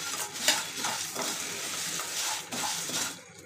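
Spices being stirred and dry-roasted in a hot kadai, with a steady scraping and light sizzling that runs continuously and fairly close, with no talk.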